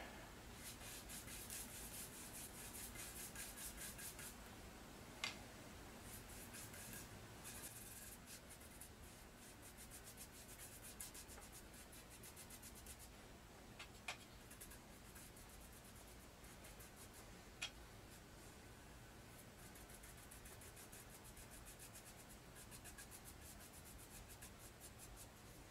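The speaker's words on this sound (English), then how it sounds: "I'm going to brush it on." Brush applying Deft lacquer to wood, a faint continuous scratchy rubbing of bristles across the surface with a few light taps, close and quiet throughout.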